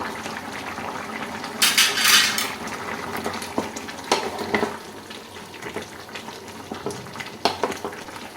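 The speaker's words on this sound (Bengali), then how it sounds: "ঝোল ফুটে ওঠার পর আমি এই পর্যায়ে দিয়ে দিলাম ভাজা পনিরগুলো" Fried paneer goes into a simmering cauliflower and potato curry with mustard paste: spoon and metal pot clatter and scraping over a bubbling sizzle, with a burst of loud splashing hiss early on, then intermittent stirring knocks.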